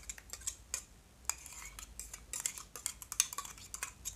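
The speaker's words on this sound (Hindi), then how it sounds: "मसाला को भी इसके साथ मिक्स कर दे रहा हूँ" Spices and ground potato being mixed in a pan with a metal spoon, repeated light scraping and clinking strokes in an irregular rhythm, close and quiet, no talk.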